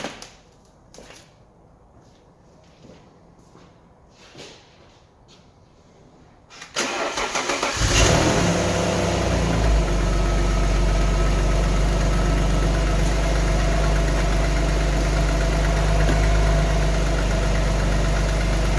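An Alfa Romeo 156 GTA, under repair for a cooling fault, cranks and fires after a quiet stretch, then settles into a loud, steady idle close by with a faint knock.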